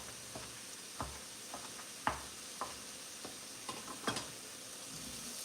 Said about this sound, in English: Give this a nice stir.